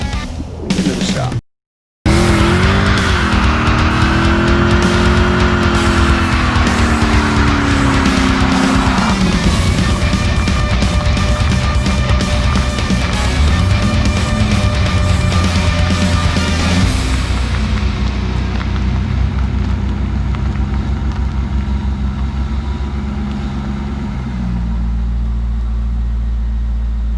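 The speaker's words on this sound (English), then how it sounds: "That ain't a bad burnout at all." A loud car engine revs hard and roars with tyre squeal in a long sustained burnout, rising and falling in pitch, then settling toward idle.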